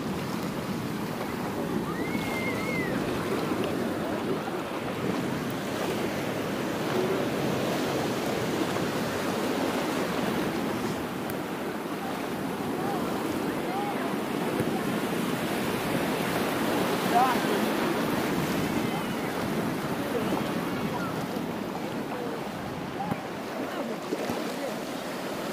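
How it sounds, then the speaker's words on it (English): Ocean waves wash onto the beach at Cala Brandinchi in a steady, fairly loud surf roar that fills the whole stretch without pause, with no clear voices. "The waves here are beautiful."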